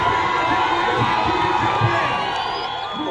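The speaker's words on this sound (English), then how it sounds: "big round of applause." A crowd at a malaria campaign launch applauds and cheers in a dense, continuous roar of clapping and shouts that holds steady throughout.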